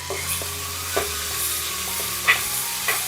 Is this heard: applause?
no